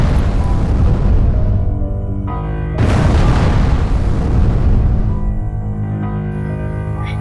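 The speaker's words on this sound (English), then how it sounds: "Then the meteorites do like a big explosion." A meteorite explosion booms and rumbles, with a second sharp blast partway through, then a long fading roar.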